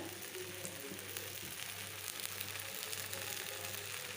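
Rava dosa fries in sesame oil on a hot pan, a faint, steady crackling sizzle with soft irregular pops throughout, no voices.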